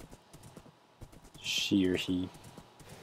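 Horse hooves clip-clop in a steady walking rhythm in the Minecraft video game, moderately close, with someone talking over the steps.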